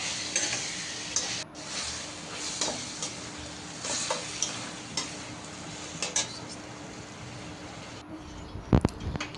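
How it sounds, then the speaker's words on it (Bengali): Vegetables with coriander and chilli powder, tomato sauce and soy sauce cook in a pan, a soft continuous sizzle broken by repeated scraping stirs and light clinks of a utensil against the pan, with a sharper clatter near the end. "সয়া সস এগুলো দিয়ে রান্না করব।"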